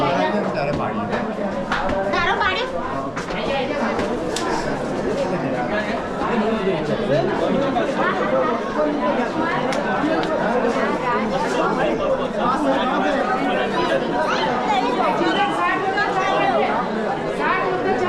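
Dense crowd chatter from many tourists at Jaisalmer's Golden Fort, a steady babble of overlapping voices filling the space near the ticket counter, continuous and fairly loud throughout.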